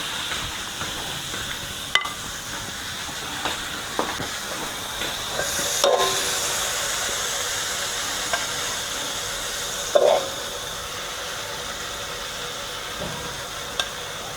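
Stir-frying in a pan as the food dries out, a steady low sizzle and hiss with occasional soft scrapes and clicks of the utensil, fairly quiet and continuous, no voices.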